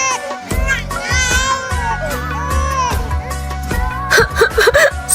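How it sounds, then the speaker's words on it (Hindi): A baby cries in wavering, rising and falling wails and whimpers, fairly loud and close, mixed with other voices nearby. "किसी बच्चे के रोने की आवाज आ रही है"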